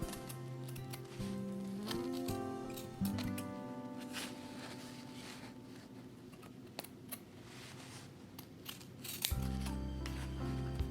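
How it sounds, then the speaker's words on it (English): Fabric shears cutting along a marked line in cloth, a steady run of faint snips and crunching blade strokes close by, with a louder thump near the end. "pick up the shears. I'm going to cut on the line again."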